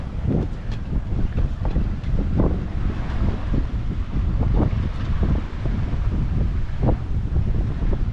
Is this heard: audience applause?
no